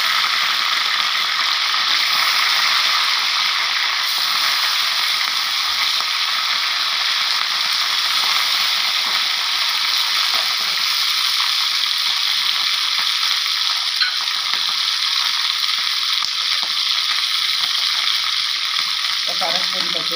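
Green chillies fry in a little oil in a Telugu home kitchen while making coriander chutney, giving a steady, close hiss and crackle that runs unbroken throughout with faint stirring clicks.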